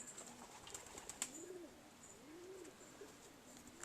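Young racing pigeons coo softly at close range, with several rising-and-falling calls in a quiet loft and a few faint chirps and clicks between them.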